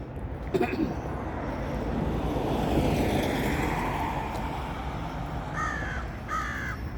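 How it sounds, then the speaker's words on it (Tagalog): A crow caws twice near the end, harsh repeated calls over steady rain and rushing ambient noise. "May huni ng uwak doon sa taas."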